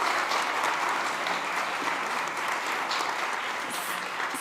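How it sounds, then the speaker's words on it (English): A summit audience gives Rick a sustained round of applause, an even, full-bodied clapping from a large crowd that stays steady throughout without any talking over it. "please give Rick a round of applause"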